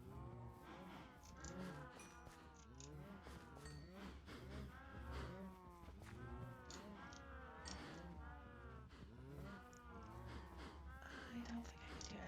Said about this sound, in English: Suddenly, cows.